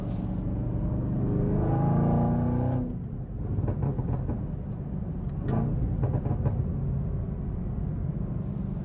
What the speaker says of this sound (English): the best thing about the ZL1's engine is the sound that it produces, obnoxious in the best way possible